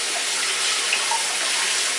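Cold water pours steadily from a kitchen tap into a sink during soup preparation, a close, even hiss of running water with no breaks or talk.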